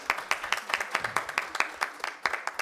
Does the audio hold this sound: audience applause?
yes